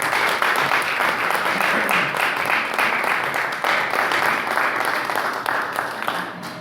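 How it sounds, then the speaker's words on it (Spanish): A church congregation breaks into strong, sustained applause, dense clapping from many hands filling the room at a loud, even level from start to finish. "Yo propongo que le demos un aplauso bien fuerte"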